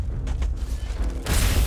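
Explosions in the video game Starfield, a muffled low boom and rumble with scattered mechanical creaks, building to a louder, broader blast near the end of the short stretch.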